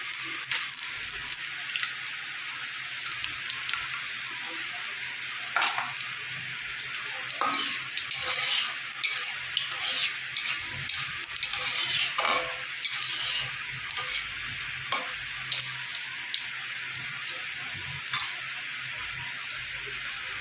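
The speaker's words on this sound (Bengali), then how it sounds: "তেলটা আমার গরম হয়ে গেছে, ফোড়নে দেবো গোটা জিরে" Whole cumin seeds sizzling in hot oil while the spice tempering for a vegetarian cauliflower curry is made, a steady close crackling hiss broken by sharp spitting pops and light clinks of a utensil against the pan.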